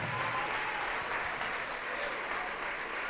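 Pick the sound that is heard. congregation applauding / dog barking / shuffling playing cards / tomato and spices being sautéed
congregation applauding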